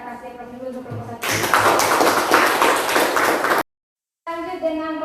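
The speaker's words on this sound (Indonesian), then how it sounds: "Kita kasih aplaus dulu untuk kelompok 1." Applause for a student group in a class session, a burst of dense clapping lasting about two seconds between stretches of speech, with a brief silent gap after it.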